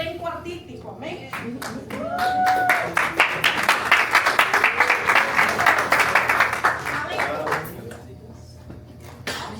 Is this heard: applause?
yes